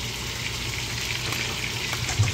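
Pieces of duck frying in a pan, a soft continuous sizzle and crackle at low level with a faint low hum beneath, no talk.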